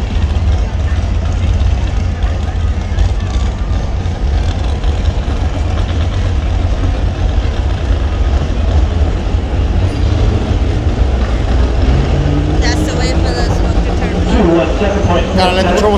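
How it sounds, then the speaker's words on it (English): A 1940s John Deere tractor engine at a tractor pull, a loud, steady low rumble throughout, with voices heard faintly over it and a tonal whine rising near the end. "1940-ish John Deere."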